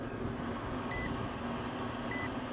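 An electrical tester checking a fuse on a single-phased unit emits two short, high electronic beeps, spaced about a second apart, over a faint steady background hum.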